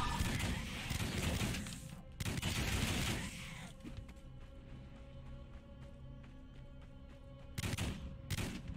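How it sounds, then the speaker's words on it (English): Bursts of loud, crackling explosions and rapid gunfire-like blasts in the video game Wolcen: Lords of Mayhem, a sustained barrage at the start, a quieter stretch, then another volley near the end. "you can get the juicy explosions."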